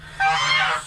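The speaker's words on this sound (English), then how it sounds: "Those are Chinese geese. Yeah, they're loud." Chinese geese on a farm give one loud, close honk lasting just under a second, harsh and nasal, with no talk over it.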